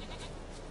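A goat in The Witcher 3 video game gives a single short, faint bleat, heard alone over a soft, noisy background.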